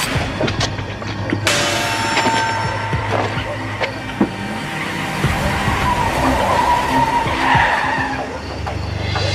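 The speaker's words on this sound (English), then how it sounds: "I heard car tires screeching, so I looked up and I see this dark red sedan peeling out" A dark red sedan peels out with car tires screeching, a loud, sustained skid squeal over engine roar that builds and carries on for several seconds.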